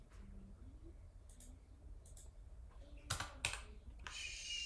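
Computer keyboard keys pressed sparsely at close range, a few soft clicks followed by two sharper key strikes, over a faint room hum.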